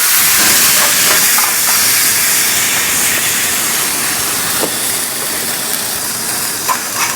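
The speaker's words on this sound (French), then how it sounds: "On va flamber ça au cognac." A steak flambéed with cognac gives a steady, loud whooshing hiss of flames that fades slightly over several seconds, with a few faint crackles near the end.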